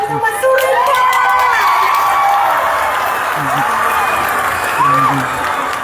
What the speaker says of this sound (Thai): และอีกหนึ่งปรบมือดัง ๆ